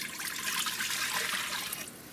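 Three and a half cups of water pour steadily into an Instant Pot, a close, continuous splashing trickle that tapers off near the end.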